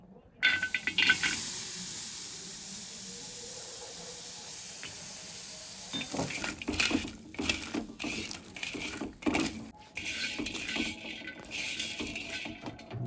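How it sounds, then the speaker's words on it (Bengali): Ginger dry roasting in a pan for Assamese maa karai, a soft hiss at first giving way to irregular scraping and rattling bursts, close by and without talk. "এবার একটু আদাগুলো জাস্ট একটু ড্রাই রোস্ট করে নেব।"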